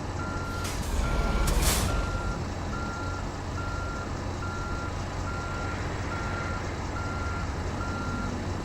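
A truck's reversing alarm beeps at a steady, even pace throughout while backing a trailer in a video game, with a loud engine drone underneath and a short hiss of air brakes near the start.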